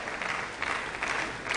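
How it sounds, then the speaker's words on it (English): Sustained audience clapping for the UN Nairobi office director at a report presentation, a dense, steady burst with no voices over it. "give the director from the UN Nairobi office a clap offering for a wonderful delivery"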